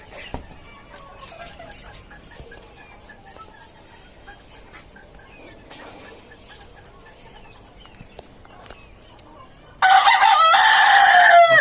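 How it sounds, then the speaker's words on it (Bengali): Quiet clucking and scattered farmyard noises from desi chickens on a rooftop farm, then near the end a rooster bursts into a loud, close crow. "আর এই হচ্ছে আমার টাইগার মোরগটা"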